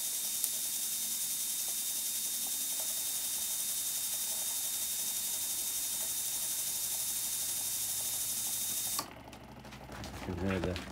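A homemade ion motor spins at very high speed, giving a steady hissing whine for several seconds before cutting off into quieter rattling vibration noises.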